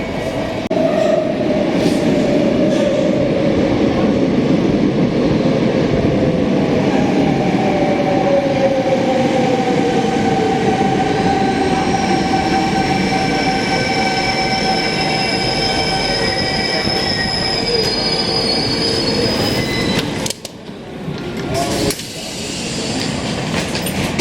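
A commuter train toward Val d'Europe on the Disneyland Paris route rumbles loud and steady from close by, with wheels squealing and long metallic screeches rising and falling over the clatter, easing off near the end.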